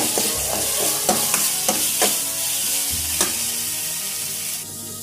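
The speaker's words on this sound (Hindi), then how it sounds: "अब हम हाफ कप प्याज डालते हैं" Half a cup of chopped white onions sizzling and frying in a pan, a steady hiss with a few sharp clattering stirs near the start, loud and close with no voices.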